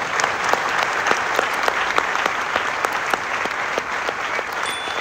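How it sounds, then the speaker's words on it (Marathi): An audience at a speech event by a Marathi actor claps continuously, a sustained even round of applause from a crowd, moderately loud, with no talking over it. "त्या खऱ्या टाळ्या माझ्यासाठी येत आहेत."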